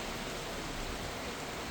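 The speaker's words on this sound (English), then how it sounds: "Can you see the rain?" Rain falling at night outdoors near a corn field, a faint, continuous hiss of drops with no distinct individual patters and no voices.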